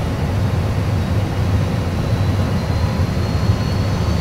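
Airbus A320 engines spooling up for takeoff in a training simulator, a steady, loud, broadband roar with a deep low-frequency rumble that holds evenly throughout.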